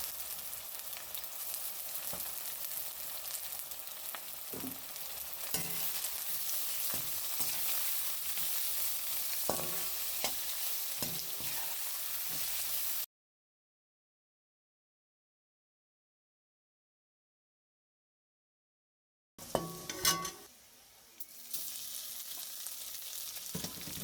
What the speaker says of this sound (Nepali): तेल तातिसकेपछि चाहिँ प्याजलाई राखिदिएँ।